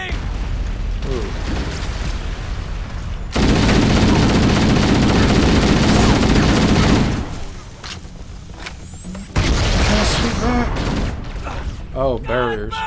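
Gunfire in Halo: The Master Chief Collection, heavy bursts of automatic fire and booming blasts separated by short quieter gaps, loud and close.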